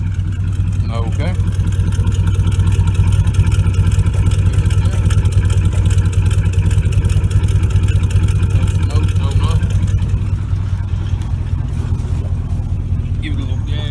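A 454 engine with its emissions parts removed and blocked off runs at a steady, loud idle close by, a constant droning hum with brief speech over it.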